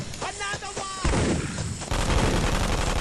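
Gunfire in the Vietcong shooter game: a short stretch of voice-like sound, then dense rapid gunshots that continue loudly to the end.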